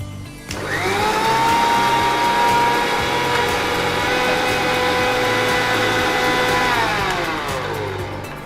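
An electric blender beats egg with oil for egg mayo, a loud steady whirring motor that starts abruptly and runs close and continuous for several seconds, easing slightly at the end.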